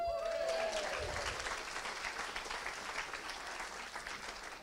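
Live poetry-show audience applause in Manchester fills the room, steady and loud, with a faint whistle at the start and the clapping slowly thinning toward the end.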